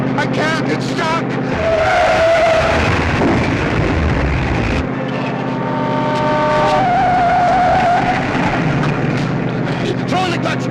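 A runaway 1951 car with a stuck throttle roars and skids with squealing tires, close and loud throughout, with voices briefly heard over the engine.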